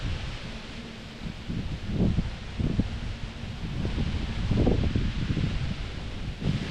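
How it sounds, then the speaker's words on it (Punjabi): Wind moving through tree leaves in Campbell Valley, a soft broad rustle that swells and fades in gusts with some microphone buffeting, heard outdoors without speech. "ਪੱਤਿਆਂ 'ਚ ਜਦੋਂ ਨਿਕਲਦੀ ਹੈ ਨਾ ਹਵਾ ਇਹਦੀ ਆਵਾਜ਼ ਬਹੁਤ ਸੋਹਣੀ ਆਉਂਦੀ"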